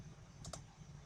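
A few quick keystrokes on a computer keyboard while a web address is typed, two soft clicks close together against a quiet room hum.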